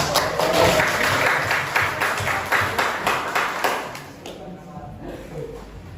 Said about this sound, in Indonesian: Tepuk tangan untuk gerak sama.